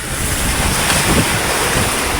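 Continuous rushing of Pacific Ocean waves slapping against a small boat's hull, with steady wind noise across the microphone, loud and close, no voices.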